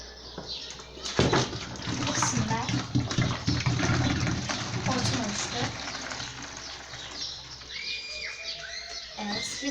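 Water gurgles and rushes from a full bottle into a connected empty one, forming a vortex in a home science demonstration; a steady, close, busy splashing flow holds for most of the clip, with faint speech under it.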